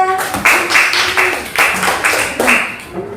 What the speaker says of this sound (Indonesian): Tepuk tangan untuk Farza.